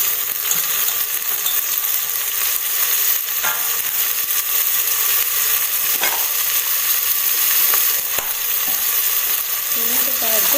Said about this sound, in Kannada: ಕಾಯಿ ಮುಂಚಿ ಪಾಡಿ ಫ್ರೈ ಮಾಡ್ತದೆ.